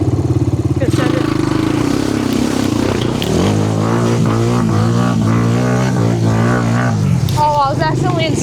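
A four-wheeler ATV engine revving hard as it plows through a deep creek with the exhaust nearly submerged, the pitch climbing and wavering close up amid splashing clatter, with someone talking over it.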